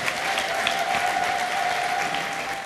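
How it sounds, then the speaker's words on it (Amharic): A church congregation in Addis Ababa applauding, dense steady clapping from many hands filling the room for the whole stretch, loud and continuous with a faint crowd murmur. "ክብር ለጌታ ስጡ እስቲ በደንብ አጨብጭቡ ለእግዚአብሔር ክብር"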